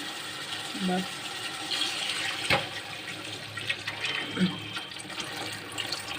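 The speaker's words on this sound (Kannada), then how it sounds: "ಜಾರಿಗೆ ನೀರು ಹಾಕಿಬಿಟ್ಟು ತೊಳೆದು ಹಾಕೊತಾ ಇದ್ದೀನಿ ನೀರು" Water running and splashing into a mixer jar used for grinding spices, with a few faint clinks and knocks in the background; no voices.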